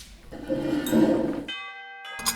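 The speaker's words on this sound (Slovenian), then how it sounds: "Čuj, zvoni. Najbrž je kdo pred vrati." A doorbell rings at a front door in a short two-part chime, with a clear ringing tone that sustains and then cuts off, followed by a brief second burst.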